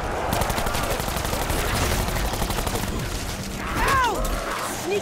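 Rapid automatic gunfire in Black Ops 4 Zombies, dense loud bursts over the first few seconds, then a zombie-like shriek or groan rising near the end with a voice briefly heard.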